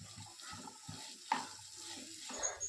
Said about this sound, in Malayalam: ശേഷം ഇതിലേക്ക് അര ടീസ്പൂൺ അളവിൽ ഉപ്പ് കൂടി ചേർത്ത് വഴറ്റി തുടങ്ങാം